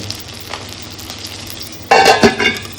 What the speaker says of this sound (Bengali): এখানেও কিন্তু কড়াইতে কিছু মাছ কিন্তু এখনো ভাজা চলছে